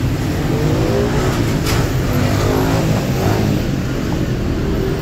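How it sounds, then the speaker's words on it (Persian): Honda 125 motorcycles ride along a Tehran street, their engines making a steady, loud, continuous drone with a rising and falling pitch throughout, and no talk. "کلن تو این مناطق صدای موتور بسیار به گوش میرسه، همه شون هم موتور هوندا 125"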